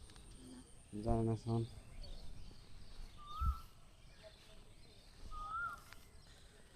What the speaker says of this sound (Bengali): এই যে শুনতে পাচ্ছেন ঘুঘুর ডাক?